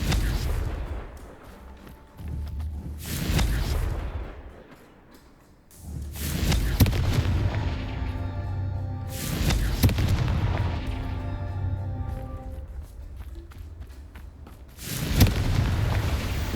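Explosions from the Confringo blasting spell in the video game Hogwarts Legacy. There are several loud, deep booms with rumbling tails, set apart by quieter gaps, over game ambience.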